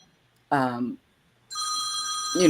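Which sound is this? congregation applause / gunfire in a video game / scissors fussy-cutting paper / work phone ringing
work phone ringing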